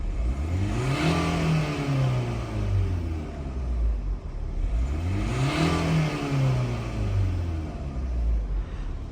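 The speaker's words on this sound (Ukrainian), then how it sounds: "турбіна на холостих" A 2015 Renault Grand Scenic 1.5 diesel engine idles steadily up close, its low rumble rising and falling in two slow swells, with no voices.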